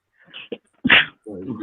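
A single sharp, breathy sneeze bursts out in the middle of a podcast-style conversation, with brief bits of talk just before and after it.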